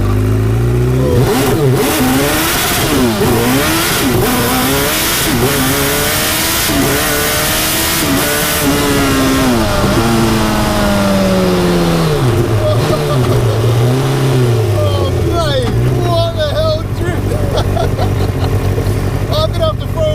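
A 1972 Reliant Bond Bug three-wheeler fitted with a Suzuki Hayabusa motorcycle engine revs and accelerates hard through repeated rising gear pulls, loud and close, with someone talking excitedly over it.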